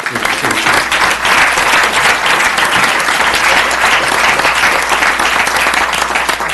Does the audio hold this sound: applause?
yes